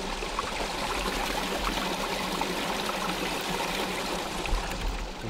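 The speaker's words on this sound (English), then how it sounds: "You can see the water running down there" Water runs down a small stream at a trapping site, a steady close rush and trickle that carries on without a break and with no voices.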